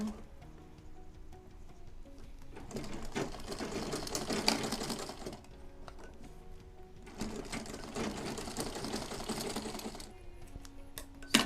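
Sewing machine stitching the handle of a leather handbag, running in two long steady bursts of rapid mechanical whirring with a short pause between them, close and loud with no talking.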